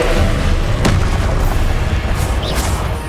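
Incendio, a fire spell, is cast during combat in Hogwarts Legacy: a loud, steady roaring burst with a sharp crack near the start, sustained fiery rumble throughout.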